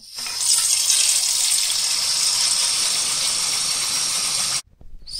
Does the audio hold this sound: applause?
no